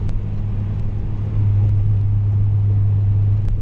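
Inside a 2002 Acura RSX on the move, a steady low engine drone fills the cabin, swelling slightly partway through with a constant hum and occasional faint ticks.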